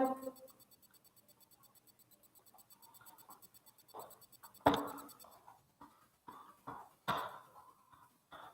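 Pen scratching across paper during a class VI science lesson, with soft intermittent strokes building into several sharper, louder scrawls and taps close by, no talking.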